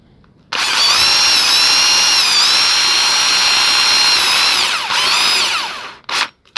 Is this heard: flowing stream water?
no